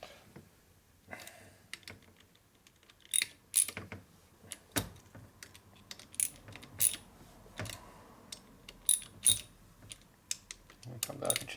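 A short hand ratchet snugs bolts on a 2001 Indian Scout 88ci big-bore S&S engine under overhaul, with a series of sharp clicking strokes in irregular bursts, close and crisp against a quiet room.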